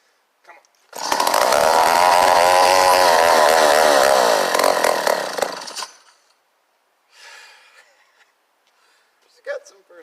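A vintage McCulloch 1-50 chainsaw engine fires and runs loud and close for about five seconds with a rough, uneven idle, then cuts out, followed by brief sputters and clatter.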